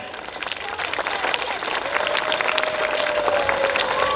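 A large audience applauds continuously at a children's festival event, loud dense clapping with crowd noise that builds slightly and holds steady throughout.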